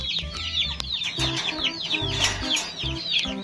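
Chabo hens cluck close by in a busy, overlapping chorus, with chirpy calls and occasional scratching or rustling underneath.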